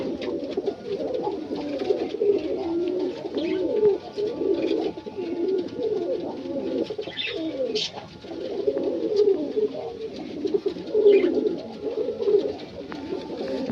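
Fancy pigeons coo steadily in low, rolling bursts, a male calling repeatedly up close, with faint chirps now and then and no speech.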